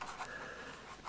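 Pen handwriting on a package, heard as a brief burst of faint, close scratchy strokes.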